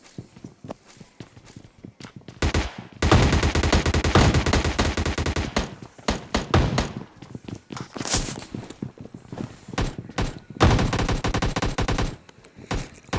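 A Tommy gun fires loudly in long automatic bursts during PUBG Lite gameplay, mixed with scattered single shots and footsteps in between.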